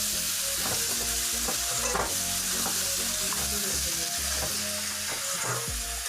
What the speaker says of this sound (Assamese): সব মিহলাই আমি ভাজিম